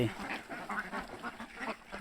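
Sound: Khaki Campbell and Pekin ducks quacking

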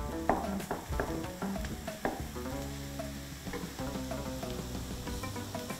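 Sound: kefta meatballs frying in a pan

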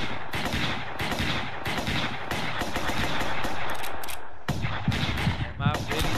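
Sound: gunfire in a video game

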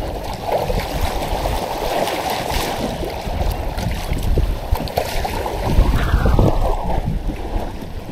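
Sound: waves against boat

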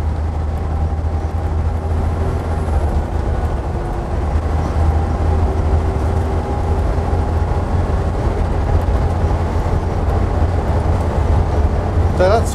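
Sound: Leyland National bus engine while driving in top gear

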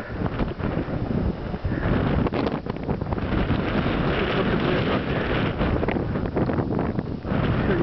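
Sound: wind

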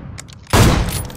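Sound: gunshot in video game PUBG Mobile

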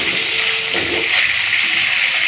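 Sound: potatoes and cauliflower frying in oil

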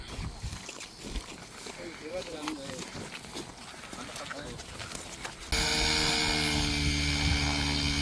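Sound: RC helicopter flying

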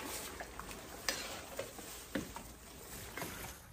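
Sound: stirring toasted sesame into chili sauce in a wok

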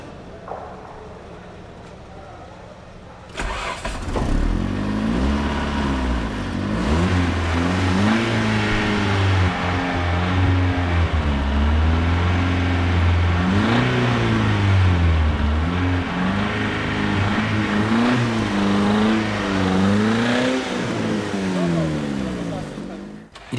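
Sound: car engine started and revving

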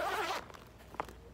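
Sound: zip on a small bag

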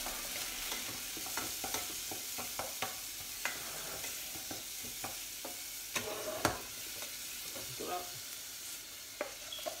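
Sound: onions and garlic frying, stirred with a spoon

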